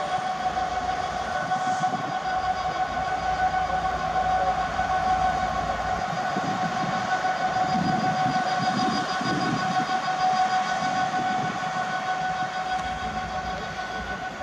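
Freight train 4L56 departing Rugby on the West Coast Main Line, running from Trafford Park to London Gateway: a steady, continuous rumble of wagons rolling past at close range, with a constant engine drone throughout.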